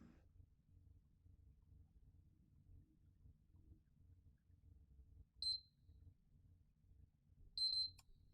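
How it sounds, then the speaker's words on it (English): PS3 console beeping as its power button is held for recovery mode: a single short high beep, then a second beep about two seconds later, faint over a low hum in a quiet room. "You heard the two fast beeps."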